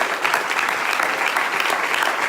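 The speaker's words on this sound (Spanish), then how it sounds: "Fuerte el aplauso al Señor." A church congregation applauding together, a dense, steady roar of many hands clapping at close range that fills the whole moment without pause.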